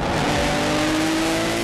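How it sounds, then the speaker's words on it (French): Peugeot and BMW touring race cars launch together at a green-light start, a loud, dense roar of engines revving and rising in pitch, close and continuous with no voices. "Au feu vert, Grinsoll est le plus prompt"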